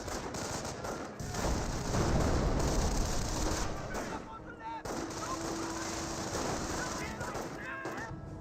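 Company of Heroes battle with sustained gunfire and machine-gun bursts crackling through dense combat noise, steady and loud across the whole stretch, with a voice talking over it.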